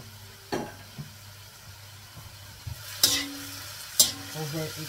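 Carrots and other vegetables stir-fry in a pan, a low sizzle broken by several sharp spatula scrapes and knocks against the pan.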